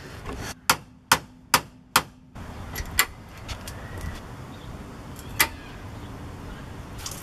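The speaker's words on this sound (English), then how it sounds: "I guess I'm just gonna hit it with the hammer and hopefully it will bend." Four sharp, evenly spaced hammer strikes ring out on a bent metal bumper bracket of a Jeep XJ, followed by a few scattered, lighter knocks amid background noise.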